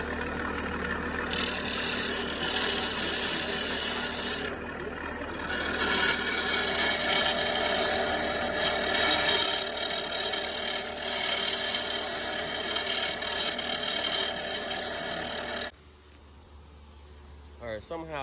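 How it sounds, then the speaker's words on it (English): Grinding a bolt on a bench grinder during headlight work on a 2016 Fusion: a loud, continuous harsh rasping whine for about fifteen seconds with a brief dip midway, then cutting off abruptly to near quiet. "I'm gonna grind it at least to about right there."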